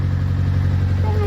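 An engine, most likely a vehicle, runs at a steady low idle. The drone is loud and continuous on a windy day, with wind noise over the microphone.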